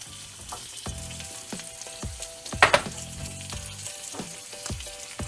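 Tomatoes for Mersin tantuni sizzle loudly in a hot pan, a continuous close frying crackle. Spatula clacks and scrapes cut in at a rhythm, with a sharp burst partway through and no talking.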